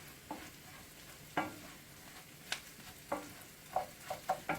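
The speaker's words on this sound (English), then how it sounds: "Now the mushrooms have been cooking probably about 5 minutes now with the rice." Mushrooms and rice sizzle quietly in a pan for risotto, with a spoon scraping and stirring in several short, irregular strokes.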